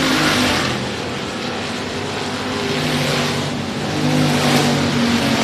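Race cars circle the Sabine Speedway track in a continuous loud engine drone, the roar swelling and easing as the pack passes.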